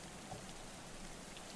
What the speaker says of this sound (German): Jetzt regnet es schon wieder.